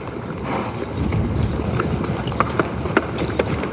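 Horse hooves clip-clop steadily over a broad rumbling background in a Napoleonic-era battle drama, with rhythmic hoof strikes becoming more distinct in the second half.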